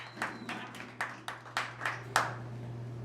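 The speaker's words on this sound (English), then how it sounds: "Give yourselves a round of applause." A small comedy club audience gives a sparse, quiet round of applause, about eight distinct claps spaced unevenly over a low steady hum.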